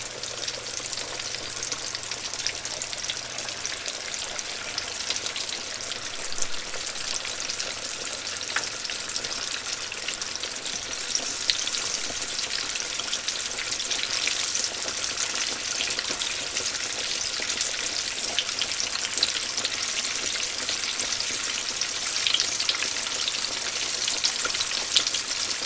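Bacon sizzles and crackles steadily in a hot frying pan, a dense, bright spitting hiss that holds at an even level throughout with no voices over it.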